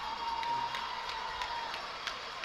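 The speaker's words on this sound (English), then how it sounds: "a very, very, very big round of applause here to the Sackville Flyers" Crowd cheering and applauding for the Sackville Flyers at a U11 hockey final against Cole Harbour, a steady, fairly distant roar of voices with scattered whoops and claps.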